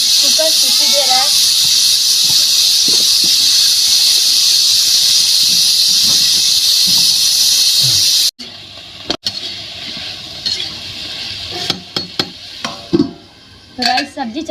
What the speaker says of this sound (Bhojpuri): कुकर सीटी दे रहा है